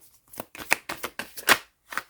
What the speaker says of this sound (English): The final shuffle.